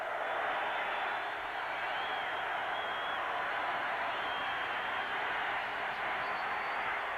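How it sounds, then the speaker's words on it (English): Steady roar of a college football stadium crowd at Pittsburgh versus West Virginia in 1989, rising on a third down, a broad distant wash of noise held throughout with a commentator's voice faintly over it. "the crowd again really making noise on the third down situation"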